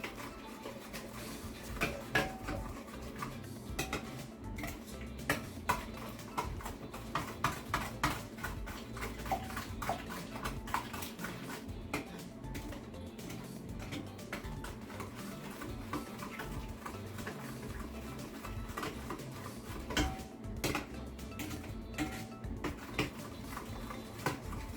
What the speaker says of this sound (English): Just to combine, just stir it enough to combine it